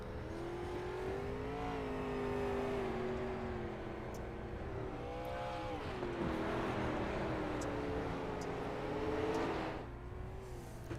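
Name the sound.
race car engine revving on Eldora dirt track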